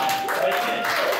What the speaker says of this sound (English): give me a round of applause, guys